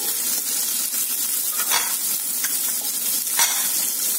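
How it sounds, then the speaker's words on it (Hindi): Cashews and onion roast lightly in a pan for sooji upma, giving a continuous soft sizzle with intermittent scraping stirs, close and fairly loud, without any speech. "काजू अब मैं इसमें डालूंगी प्याज इसको हल्का सा सेकूंगी"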